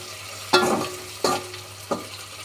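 Avaram (tanner's cassia) flowers fry in hot oil in three sharp sizzling bursts, each fading quickly, close and fairly loud with no voices.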